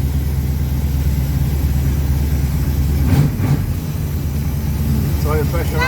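A TVR Griffith racecar engine runs after a cold start-up, a steady low rumble close by, with people talking briefly over it.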